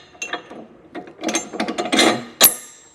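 A metal bolt is wiggled and pushed through a hitch block and safety chain loop on a hidden trailer hitch receiver, producing close, irregular metallic clicks, scrapes and rattles that end in a sharper clank.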